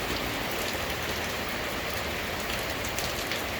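Heavy rain pours steadily around a hill area in Lonavla, a dense, even hiss with no break or let-up, heard alone and close.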